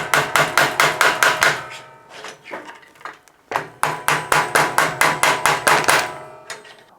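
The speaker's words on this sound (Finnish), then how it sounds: "täältä vastapuolelta vaan taltalla lyödään" Rapid metallic hammer strikes on a chisel removing a Fauber bicycle crank, two long runs of evenly spaced ringing blows separated by a short pause with quieter scraping.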